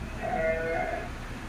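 A single drawn-out bleat from a goat in a herd of dairy goats on a goat cheese farm, fairly close and clear over a low background.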